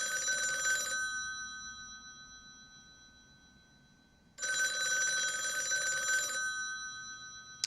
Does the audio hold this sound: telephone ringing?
yes